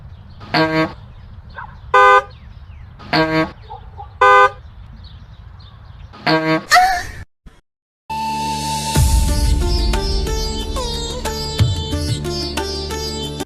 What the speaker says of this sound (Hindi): आगे 500 गाड़ियों का ट्रैफिक लगा है, हॉर्न बजाओ।